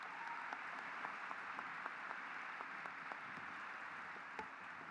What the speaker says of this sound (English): Let's give them one more round of applause as they exit the stage.